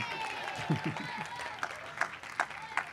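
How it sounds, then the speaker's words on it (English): Scattered applause from an audience at a Film Prize 2021 top 20 announcement, fairly faint and thin, with a voice speaking over the clapping. "you should clap some more."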